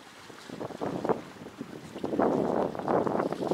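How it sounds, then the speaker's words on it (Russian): Gusts of northeast wind buffet the microphone in uneven, rumbling bursts that grow stronger toward the end, with faint water and 7-metre sailing yacht noise underneath. "Сегодня ветер хороший, северо-восток"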